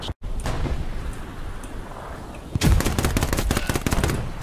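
Rapid video game gunfire, with bullets striking enemy soldiers' helmets, crackles in dense bursts; after a brief gap a louder, closer volley of sharp shots and impacts takes over the second half.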